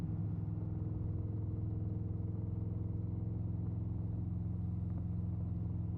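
Harley motorcycle engine rumbling steadily through a tunnel near the Golden Gate Bridge, a loud, continuous low drone that stays even throughout without any talk.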